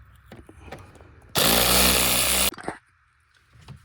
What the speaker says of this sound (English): since I've got this on this ratchet, I'm gonna go ahead and remove this clamp